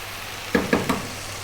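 Lamb tossed with thyme, cumin and chili powder in a hot pan: three quick scraping stirs in a row over a soft, steady sizzle, close and fairly quiet, with no voices.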